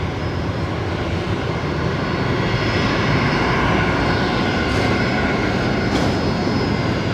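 An aircraft departing at Brisbane Airport at night, its engines giving a loud, steady, broadband roar that stays constant and close for the whole stretch, with no voices over it.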